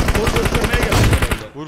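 Rapid automatic gunfire from the mobile battle royale game PUBG Mobile rattles in a dense, loud burst of repeated shots that stops abruptly near the end, with game sound continuing.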